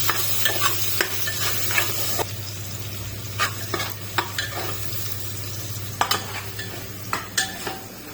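Onions browning with added spices while being stirred in a pan, a steady close sizzle broken by repeated scraping and clinks of a utensil against the pan, no voices.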